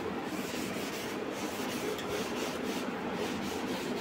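Dirty bottles are rubbed clean by hand. A steady, close scrubbing runs through the whole clip without a break, and no one speaks.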